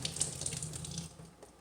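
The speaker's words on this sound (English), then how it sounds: "Turn the water on" A kitchen sink tap runs at the start of dishwashing, a close, steady splashing gush of water that tapers off toward the end.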